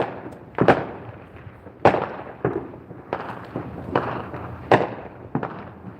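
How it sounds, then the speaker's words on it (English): Neighborhood Fourth of July fireworks in Las Vegas for the 250th celebration, about eight sharp booms and crackles spaced irregularly over a few seconds, some near and loud, others farther off, with no speech. "some of our neighbors have competitions between themselves who can buy the most fireworks"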